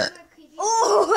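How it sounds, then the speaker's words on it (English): A single big burp, a short rough belch that rises out of near silence and holds briefly, close and fairly loud. "Oh, that was a big burp."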